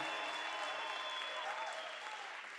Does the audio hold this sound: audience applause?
yes